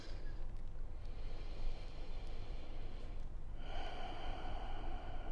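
Deep breathing during a home yoga session, a couple of audible inhales and exhales through the nose, soft and close, followed by a brighter, airy rush of breath toward the end.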